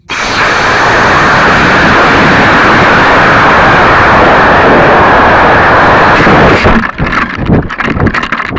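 A Lego model rocket ignites and launches with a sudden loud roaring rush that holds steady for several seconds, then breaks up into sputtering, crackling bursts as it fades.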